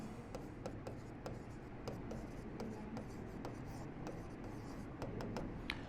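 Marker or chalk strokes on a board during a Hindi physics lecture on laws of motion, a steady run of short scratchy taps and rubs, close and moderately loud, with little pause between strokes.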